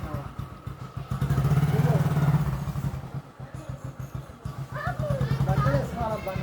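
A motorcycle engine idles and revs up as the bike is turned around, swelling loud near the start then settling back to a steady close rumble, with children and adults talking over it.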